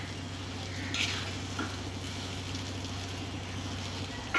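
A nut and raisin mixture frying on medium-low heat in a pan for halwa, giving a soft, steady, low sizzle with faint occasional stirring.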